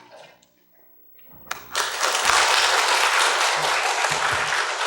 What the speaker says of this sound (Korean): 우리 나오실 때 우리 박수로 환영해 주시기 바랍니다.